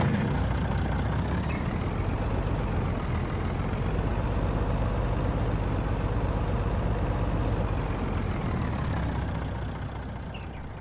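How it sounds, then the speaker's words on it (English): A truck engine in the farming video game Farming Simulator 19 drones steadily and loudly, with a heavy low rumble, then eases off slightly near the end. No reversing beeps stand out. "Okay, listen to the truck."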